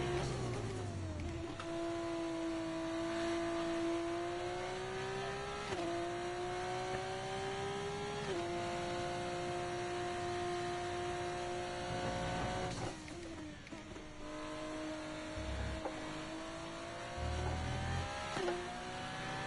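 Simulated F1 race car engine from F1 24 screams at high revs, pitch climbing through each gear then dropping at sharp upshifts, loud and continuous, with a brief lift and re-acceleration near the end.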